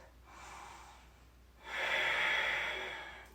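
Deep yoga breaths during a vinyasa flow: a softer breath followed by a longer, louder exhale through the nose, close and airy, with no talking.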